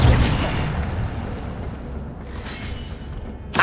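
The Incendio fire spell is cast in the Hogwarts Legacy video game, giving a loud whooshing burst of flame that fades over a few seconds. A short sharp hit lands at the end.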